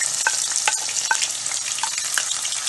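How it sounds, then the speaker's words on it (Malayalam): Onion, garlic and mustard seeds sizzle steadily in hot oil for a Kerala-style fish curry, with irregular scraping stir clicks from a spoon over a continuous close frying hiss. "ഇതെല്ലാം നന്നായിട്ട് ഇളക്കി ഒന്ന് വഴറ്റിയെടുക്കുക"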